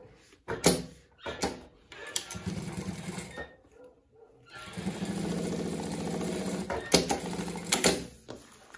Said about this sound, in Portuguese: eu vou passar a primeira costura nessa lateral